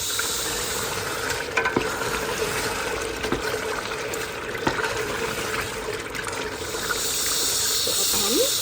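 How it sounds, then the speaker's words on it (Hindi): Masala and chicken fry in oil in a pan while being stirred, giving a steady close sizzle and hiss with occasional scraping clicks from the stirring. "हिलाने से ये एक ज़ोरदार शोर करेगा, एक क्रिस्प सी आवाज़ होगी इसकी"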